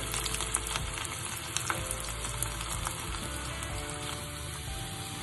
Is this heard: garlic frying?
yes